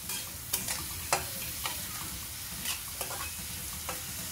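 Onions frying in a pan for chicken roast, a soft, steady sizzle with a series of spatula scrapes and taps roughly every half second.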